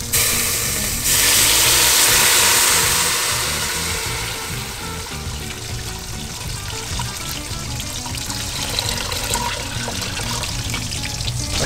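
Homemade fish stock poured straight into a hot pot for fish head soup, a steady rushing, sizzling pour that starts loud and settles into a continuous bubbling wash, with no talking.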